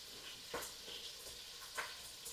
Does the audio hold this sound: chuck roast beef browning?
yes